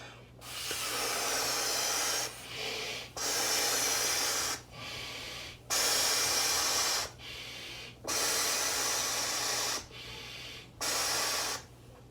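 Someone blows hard into a homemade hover toy to inflate it, giving a series of long, loud breathy blasts separated by short pauses for breath.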